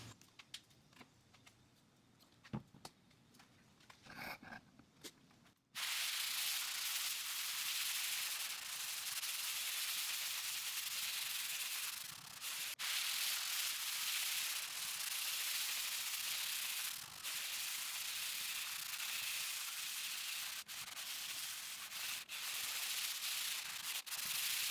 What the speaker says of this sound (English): I'm going to put a little bit of water on the Ajax side, just to help it work in, and I'll scrub it as well